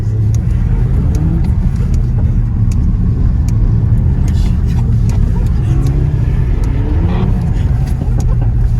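A Subaru GDB car drifting, its engine rumbling and revving loudly and continuously with tire noise, mixed under steady background talk throughout.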